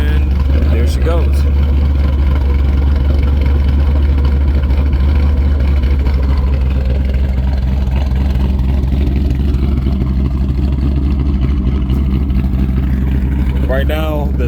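A 2015+ Ford Mustang GT V8 with stock headers and a Borla cat-back exhaust rumbles loud and close, idling with a deep low drone and rising briefly into revs, while a person talks over it.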